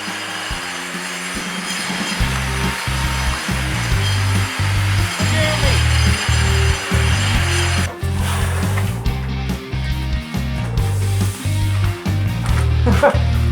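A tile removal tool grinds thinset off a floor, a loud steady rough motor drone with rhythmic low pulsing, persisting throughout with brief dips and shifts in intensity.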